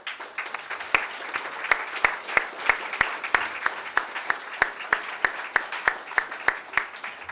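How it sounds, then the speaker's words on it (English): At a gala, a few sharp, evenly spaced claps ring out close by in a steady rhythm over a softer bed of scattered crowd clapping. "So let's give them a big round of applause."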